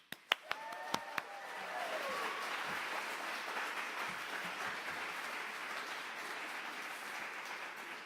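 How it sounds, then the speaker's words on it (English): Audience applause at the IBC Awards 2024 ceremony at the Barbican, opening with a few sharp isolated claps and then swelling into steady, even clapping from a large crowd that holds for several seconds at moderate, somewhat distant level. "a big round of applause to the team and everyone at Barbican who's helped make this happen"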